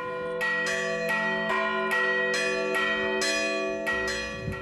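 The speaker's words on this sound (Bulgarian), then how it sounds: "като си почна да си звъня камбаните" Church bells ringing in a bell tower in the town of Shipka, Bulgaria: repeated clear metallic strikes about every half second, bright overlapping tones with long ringing decay, loud and close, no voices.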